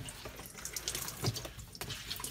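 A wet item is squeezed out in a compact twin tub portable mini washing machine, giving a steady splashing trickle of water with a few louder drips and sloshes throughout, close and alone.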